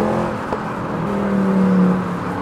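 An AMG C63 engine hums and gently rises in pitch as it accelerates, a fairly subdued whirring drone heard from close by with no talking.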